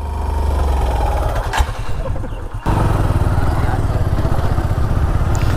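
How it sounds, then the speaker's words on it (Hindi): A newly bought motorcycle engine putters loudly and close while being ridden along a jungle track, with a brief dip in the middle before the steady revving returns. "तो ब्रजेश अभी चला नहीं पा रहा है, अभी न्यू बाइक ली है।"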